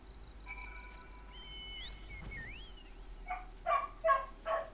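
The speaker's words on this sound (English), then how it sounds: "Bark, bark, bark, bark, bark. I am a distraught dog." A small dog in Final Fantasy 14 yips and barks three or four times in quick succession near the end, following soft synth chimes and tones of the game.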